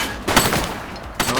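Gunshots in the police video game The Precinct, two loud sharp bursts of fire close by, separated by a short gap of noisy game ambience.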